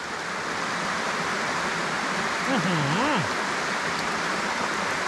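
A forest stream flows in a constant broadband rush of running water, close and fairly loud, with a brief faint voice rising over it near the middle.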